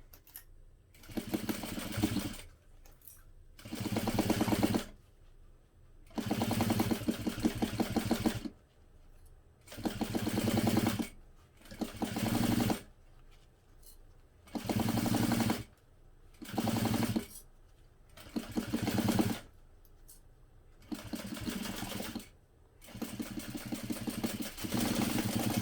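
A sewing machine stitches a quarter-inch seam on a hobo bag in repeated bursts of rapid mechanical whirring, each run lasting a second or two and separated by short quiet pauses.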